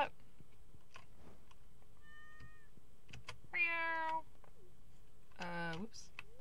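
A cartoonish cat in the farming game Honey Hills Farm gives two drawn-out meows a couple of seconds apart, over soft game ambience with a small chime and faint clicks.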